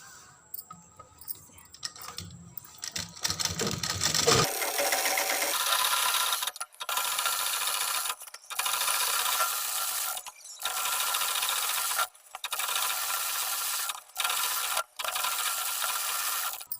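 Sewing machine stitching a four-panel petticoat: after some handling noise, a loud, close mechanical whir runs in bursts of a couple of seconds each, separated by short pauses.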